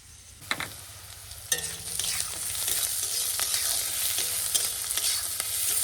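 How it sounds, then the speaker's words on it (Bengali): Grated ginger and chopped garlic fry in a pan, a continuous crackling sizzle that builds after a few sharp utensil knocks, with periodic scraping strokes as the mixture is stirred. "এবার কি ভাজা ভাজা হোক আদার কাঁচা গ্রানটা চলে যাক"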